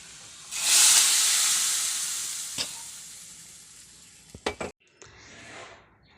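Hot tempering of curry leaves and chilli is poured into a sardine fish curry, letting out a loud burst of sizzling hiss that slowly fades, followed by a few sharp clinks of a pan or spoon.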